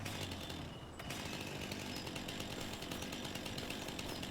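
A steel chainsaw runs steadily in Farming Simulator 25, its loud buzzing engine drone continuous throughout with a brief dip near the start, and no talking.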